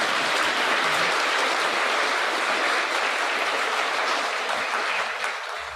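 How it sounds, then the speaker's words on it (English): At a community mental health forum, an audience gives a sustained round of applause, dense continuous clapping that fills the room and begins to taper off at the end. "if we get just a round of applause before we go to questions"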